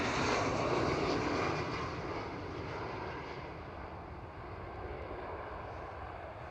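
KLM Boeing 737-900 landing at Amsterdam Schiphol, a steady broadband jet roar that starts loud and eases slightly as the airliner touches down and rolls past at moderate distance.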